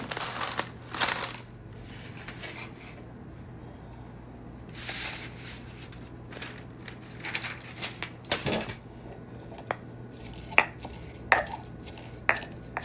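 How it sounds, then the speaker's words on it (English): Dried rosemary being ground in a mortar and pestle, with scattered close knocks and crunching taps in uneven bursts separated by quiet gaps, and no voices. "So we're going to grind that up just a little bit"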